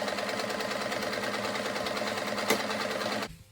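A sewing machine runs in a steady, rapid rhythmic whir as it stitches the side seams of a fabric bucket hat, then stops abruptly near the end.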